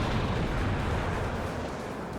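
Tank cannon fire in the WARNO war game booms as a loud, deep blast, then a rumbling decay that fills the short stretch with heavy low-end roar.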